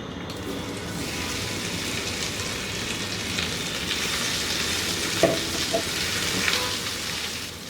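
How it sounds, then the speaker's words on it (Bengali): Potatoes fry over high heat in a pan after eggs are removed, giving a loud, continuous sizzle close up, with a few light scrapes of stirring near the end. "আমি কিন্তু হাই হিটে ভাজতেছি যাতে আলুগুলোর মধ্যে একটু বাদামি দাগ লাগে"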